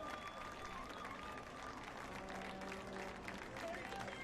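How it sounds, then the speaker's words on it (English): A Tigers student section at a Division II Ohio lacrosse state championship cheers and applauds, a continuous distant roar of clapping and crowd noise sitting low in the mix. "The student section for the Tigers celebrating"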